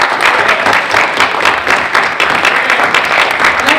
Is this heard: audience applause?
yes